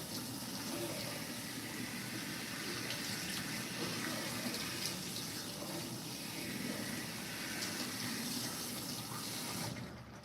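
Steady running water rinses soap out of hair at a barbershop sink during a fade haircut, a continuous close gushing flow from a tap lasting throughout.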